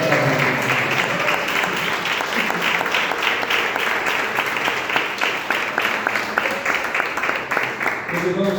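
A church congregation applauds during a worship service, dense sustained clapping from many hands filling the room at close range, with voices faintly mixed underneath throughout.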